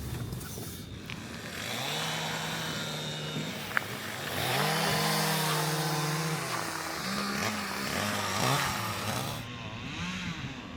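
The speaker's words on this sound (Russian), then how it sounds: "Работают бензопилой." A petrol chainsaw cuts river ice on a channel in Yakutia, the engine droning steadily near the listener and revving up and down as the blade bites into the ice.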